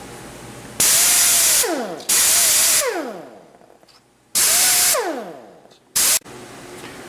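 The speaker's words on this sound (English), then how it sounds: "grind this about halfway down to this pocket" A power tool grinds down a part of a Sumo-X Fury seat in several loud, harsh bursts, each spinning up and winding down with a falling whine, separated by short quiet gaps.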